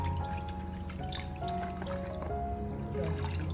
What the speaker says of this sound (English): Then add water to cover the eggs.